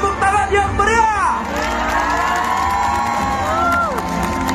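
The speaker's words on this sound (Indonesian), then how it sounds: "Boleh kasih tepuk tangan yang meriah." Crowd at an Islamic gathering in Changhua, Taiwan, cheering and shouting loudly, with rising and falling whoops and calls over a dense background of voices, close and energetic throughout.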